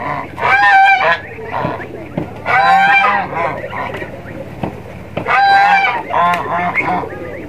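Geese in a yard honk loudly and close by in several bursts of nasal calls, with short quieter gaps between them.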